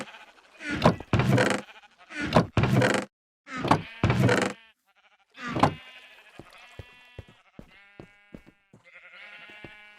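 Sheep in Minecraft bleat in a series of loud, close calls standing on grass in an underground wool farm, followed by a stretch of softer clicks and faint tonal game sounds.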